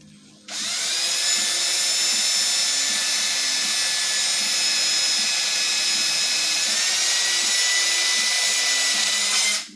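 A high-pitched drill with a brand new bit whines steadily, boring a hole for a 6-32 screw continuously for several seconds at close range, then cuts off abruptly.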